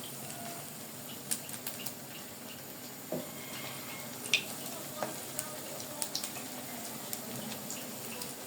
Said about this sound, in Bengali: এখানে আমি 4 থেকে 5টি পেঁয়াজু দিয়ে দিব